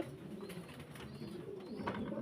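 Fancy pigeons at a pigeon farm in Faridpur, with faint scattered coos over low ambient noise and no speech.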